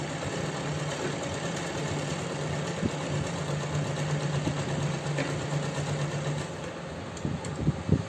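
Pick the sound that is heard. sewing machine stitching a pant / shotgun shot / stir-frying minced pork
sewing machine stitching a pant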